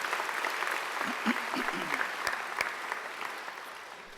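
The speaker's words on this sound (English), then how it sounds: "let's give them a great round of applause too" Applause from a graduation ceremony audience at Macquarie University fills the hall as a dense, continuous wash of clapping at moderate loudness, with faint crowd murmur mixed in.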